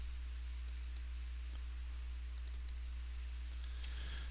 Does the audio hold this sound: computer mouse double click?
yes